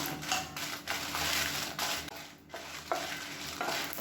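Twenty-five dried red chillies frying in hot oil for chutney, a steady soft sizzle with stirring scrapes and occasional light clatter, fairly quiet and close.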